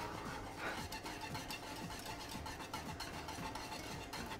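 Egg custard being whisked in milk in a pot over low heat, a steady scraping, stirring rhythm of the whisk heard close and continuous with no talk over it.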